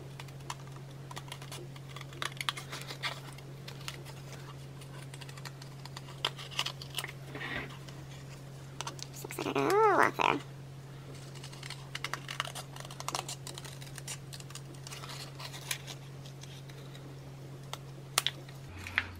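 Cutter Bee scissors trim the edge of a paper page for a shabby chic mini album, giving quiet, scattered snips and paper rustles with a steady low hum underneath.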